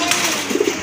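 Fancy pigeons, including Andalusian-coloured birds kept in a collection for sale, coo close by in a brief, soft burst of low throaty notes.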